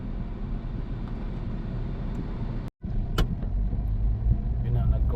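Afternoon road traffic outside in the heat makes a steady, dense rumble and hiss of passing cars that cuts out briefly and then resumes, slightly louder.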